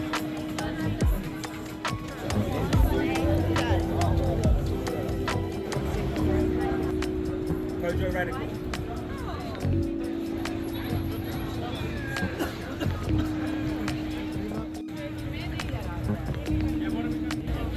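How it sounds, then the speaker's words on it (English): A crowd of people at a London train station fills the scene with a continuous hubbub of overlapping voices and footsteps, a steady busy wash with nearby talk over it. "That's to like get into the train station"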